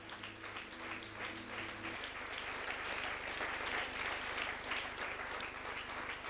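A church congregation applauds during a Sunday morning service, steady dense clapping that fills the room for several seconds, with a low sustained instrumental hum underneath at the start.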